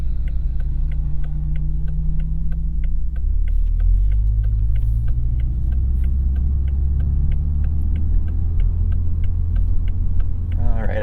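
A 2021 Toyota Supra 2.0 held in first gear in sport mode, its engine a steady low rumble that rises in pitch toward the end, heard from inside the cabin with a faint regular ticking throughout.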